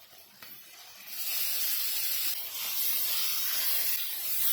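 A coconut, ginger and garlic masala paste sizzles in hot oil, giving a bright, hissing spray of frying noise that swells louder after the first second and holds steady, close and without talk.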